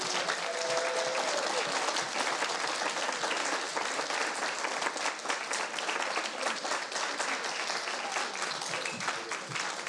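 An audience at the 2019 Hartford Seminary graduation ceremony gives a sustained round of applause, dense, loud clapping that fills the whole ten seconds without letting up.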